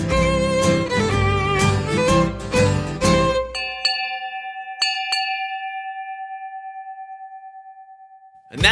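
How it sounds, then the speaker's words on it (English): A ship's bell is struck a few times in quick succession after music ends, and the clear metallic rings hang in the air and slowly fade through a long decay before another sound cuts in at the end. "We wish that you would hurry up and strike the bell."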